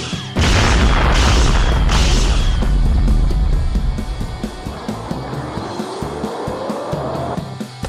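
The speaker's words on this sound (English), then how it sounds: "I'ma shoot a Kamehameha in his face." An energy-blast attack explodes in a Dragon Ball fighting game battle against Super Saiyan Broly: three loud, heavy booms in quick succession, then a sustained roaring rumble with a rising whine, and no talking.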